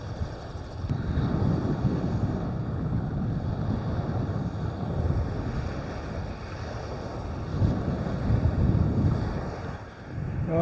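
Strong wind roars steadily across the microphone while fishing from a boat at sea on Southampton Water near Hamble, with low rumbling gusts and water noise throughout and no voices.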